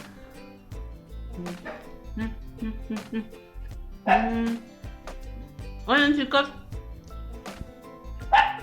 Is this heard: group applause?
no